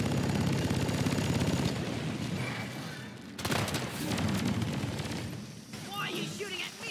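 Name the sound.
gunfire from a video game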